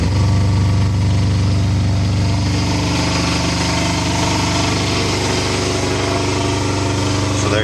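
Standby generator running inside a hush box, a loud, steady engine hum with a constant low rumble that holds throughout.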